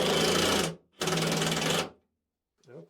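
A power driver sets a lag screw into a wall in two loud, sustained whirring bursts separated by a brief pause, followed by a short soft voice at the end.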